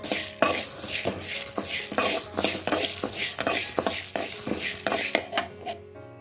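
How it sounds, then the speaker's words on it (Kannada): Dry chana dal rattles and scrapes in a pan as a spoon stirs it in steady, repeated strokes, close and fairly loud. "ಇಷ್ಟು ಕಡಲೆಬೇಳೆನ ರೋಸ್ಟ್ ಮಾಡಿ ಎತ್ತಿಟ್ಕೊಳ್ಳೋದ"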